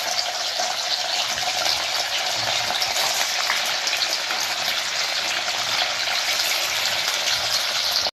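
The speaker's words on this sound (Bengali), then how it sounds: "আমরা পনিরগুলো ভেজে দেব।" Pieces of paneer fry in hot oil in a pan, giving a continuous loud, even sizzle that runs without a break until it cuts off abruptly.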